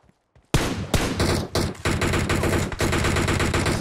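Loud, sustained automatic gunfire in PUBG Mobile, a battle royale shooter. Rapid bursts start after a brief quiet moment and run close and dense with only short gaps to the end.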